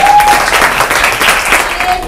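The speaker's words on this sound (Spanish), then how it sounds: "Un aplauso." A brief burst of dense applause from a crowd, steady and fairly loud for a couple of seconds.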